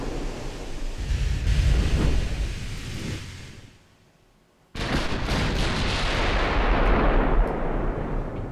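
Battleship shell ricochets in Ultimate Admiral Dreadnoughts, heavy booming rumbles with a rolling roar, a brief near-silent gap, then another abrupt blast followed by a sustained rumbling wash.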